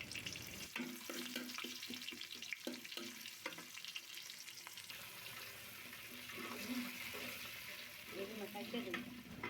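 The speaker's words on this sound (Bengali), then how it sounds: "বাদামি হওয়া পর্যন্ত আমরা পেঁয়াজটা ভালো মতো নাড়াচাড়া করে নেব।" Chopped onions stirred and fried until brown for a mutton nihari, with steady sizzling under repeated scraping and stirring strokes, close and fairly loud.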